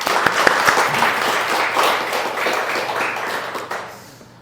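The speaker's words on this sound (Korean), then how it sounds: "우리 박수 한번 치시죠." Church congregation applauding for the church's founding anniversary Sunday: a steady burst of many hands clapping, dense and sustained, tapering off near the end with no talk over it.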